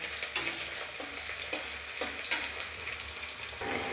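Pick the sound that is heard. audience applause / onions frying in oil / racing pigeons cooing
onions frying in oil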